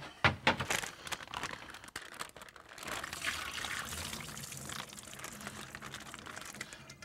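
Brine poured out of a container of pork chops with herbs: a soft trickle and splashing liquid after a few crinkling sounds, fairly quiet and steady.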